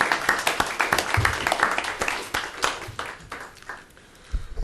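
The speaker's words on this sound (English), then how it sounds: "If you'll join me in thanking all of our speakers with a round of applause." Audience applause for a panel of speakers at a talk on Taiwan, a dense patter of many hands clapping steadily at moderate loudness, tapering off toward the end.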